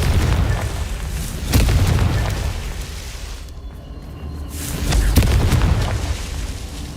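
In the Hogwarts Legacy video game, the Confringo fire spell bursts into loud, rumbling explosions. Repeated booms land over continuous game noise, with a brief lull in the middle.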